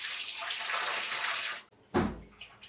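Water pours steadily onto soaked rice in a pot for Dindigul Thalapakatti biryani, a close, hissing stream lasting under two seconds that stops abruptly and is followed by a dull thud.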